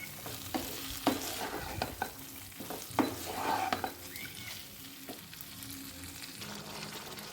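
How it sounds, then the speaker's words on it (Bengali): Potatoes are sautéed with spices on a medium flame for Bengali-style vegetarian aloo dum, with repeated spatula scrapes and knocks over a soft, steady sizzle. "এবার মশলার সাথে আলুগুলোকে ভালো করে কষাবো"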